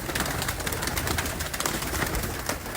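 Pigeons in a breeding loft coo continuously close to the microphone, with soft overlapping calls and scattered rustling and wing movement throughout, and no talking.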